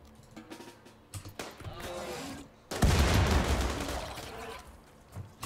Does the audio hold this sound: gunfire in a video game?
yes